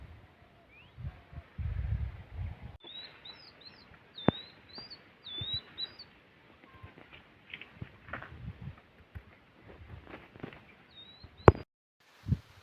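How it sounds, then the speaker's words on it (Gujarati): Pigeons and other birds chirping around drinking-water troughs, a series of short, bright tweets repeating at moderate distance, with scattered footsteps and low thumps underneath and no talk. "પક્ષીનો અવાજ આવતો હોય છે"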